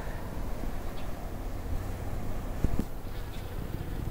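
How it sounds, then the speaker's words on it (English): A bee buzzing among pink spring blooms in a garden in late March on a clear day after several days of rain, a faint, steady low hum that lingers close by with no talk over it. "look, there's a bee already."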